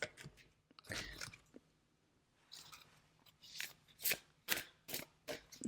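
Tarot cards shuffled and drawn from a pick-a-card deck: bursts of papery riffling and slapping, then a pause and a quick run of sharp crisp flicks, close up with no voices.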